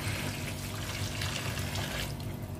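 Thin, weak stream of water running from a filtered tap into a sink, a soft steady trickle heard close up for a couple of seconds, ending with a sharp knock.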